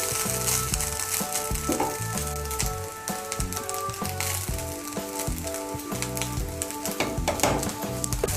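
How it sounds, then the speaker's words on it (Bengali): Fried rice sizzles in a hot pan as ghee is stirred through, a dense, continuous crackle with scraping strokes under steady background music. "ঘিটাকে ভালো করে মিশিয়ে নেব"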